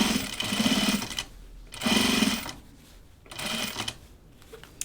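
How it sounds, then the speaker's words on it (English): A sewing machine stitching a Grainline Studio Tamarack jacket runs in three bursts of rapid, rhythmic needle chatter, each about a second long, with quiet pauses between them. The sound is close and fairly clear, and no one talks. "thanks for hanging on here while I sew something that's not even in the pattern"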